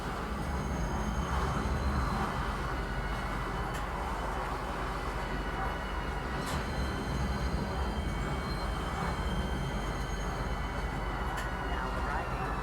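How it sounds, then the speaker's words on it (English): Metro train pulling into a spaceport station in the game Star Citizen, a steady loud rumble with rail hum and faint chiming tones running throughout, while a voice talks over it. "Please watch your step when disembarking the train."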